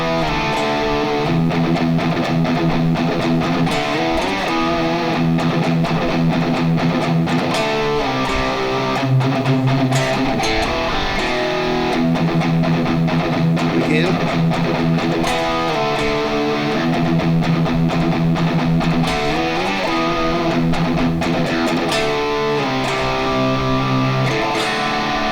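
A distorted electric guitar plays a riff in full, loud and steady with repeating chugged phrases and chord changes over about twenty-five seconds, no voice present.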